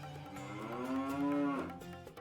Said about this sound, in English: Oh, it goes moo.